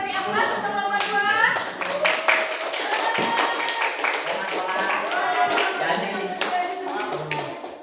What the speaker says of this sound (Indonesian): Ayo kita beri aplaus untuk kelompok 2.